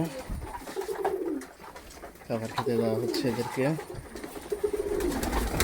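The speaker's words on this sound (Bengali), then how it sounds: "এই যে সব কবুতর, এই যেগুলা বাইরে ছেড়ে রেখে দিচ্ছি, পাট্টা কবুতর, বাচ্চা কবুতর" Pigeons in a loft at feeding time coo steadily and close by, including young and adult birds, while someone talks over them throughout.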